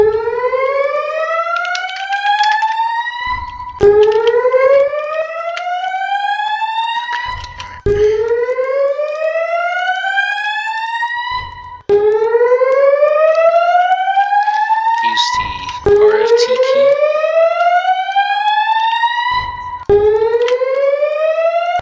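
Fire alarm siren in the Roblox video game, rising sweeps repeating about every four seconds, loud and continuous with no talk over it.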